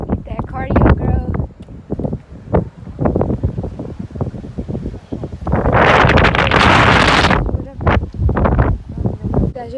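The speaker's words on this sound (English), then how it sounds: "It's so windy now." Wind blows hard beside open water, gusting and buffeting the microphone in rough bursts, strongest in one long rush midway, while a person talks throughout.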